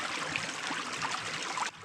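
Water of Orange Creek flowing in a steady, fairly close rush and trickle, with no voices over it.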